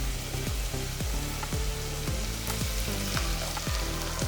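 Spinach puree poured into hot oil in a cooking pan for spinach rice, sizzling and frying loudly and steadily, with regular stirring strokes scraping through it.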